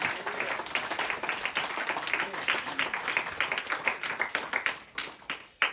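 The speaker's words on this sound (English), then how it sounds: "Give him a good hand clap of praise." A church congregation claps hands in praise during a sermon, a dense, steady patter of many hands that stays fairly loud for about six seconds without letting up.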